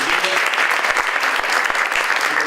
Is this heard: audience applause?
yes